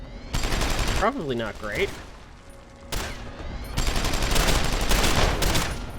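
Enemy gunfire rattles from below in Deus Ex: Human Revolution as rapid bursts of shots crackle in loud volleys, first briefly and then sustained near the end. A player talks between the early bursts.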